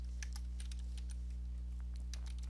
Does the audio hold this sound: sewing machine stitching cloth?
no